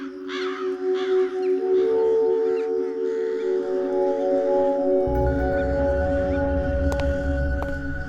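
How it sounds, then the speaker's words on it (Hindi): Several crows caw repeatedly, loud and close, their harsh calls layered over steady tonal drones and a low rumbling background. "छोटू, ये कौवे यहाँ पर ऐसे ही रहते हैं क्या? इनके कांव कांव ने मेरा सिर दुखा दिया है।"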